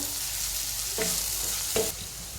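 Red chili powder being stirred into a frying spice mixture for puri bhaji, a soft sizzle with two brief scraping strokes of the spoon close by.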